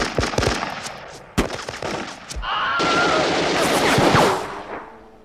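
Rapid bursts of gunfire in a World War II beach assault game, loud sharp shots and automatic fire with crackling volleys, building into dense sustained shooting near the end.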